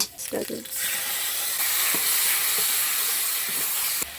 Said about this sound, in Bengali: সিদ্ধ করা পেঁপে দিয়ে দিলাম পেঁপেগুলোকে একটু ভেজে নেব